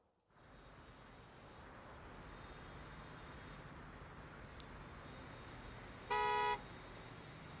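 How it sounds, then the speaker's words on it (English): A car horn in the transport simulation game Transport Fever 2 gives one short, loud honk near the end, over a steady hum of traffic and vehicles. "Just sounds like a car horn."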